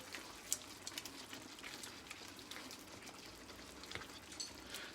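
Ginger garlic paste cooking in a tomato base for butter chicken, a soft continuous sizzle and bubbling with small pops and occasional stirring clicks, fairly quiet and close, with no talking.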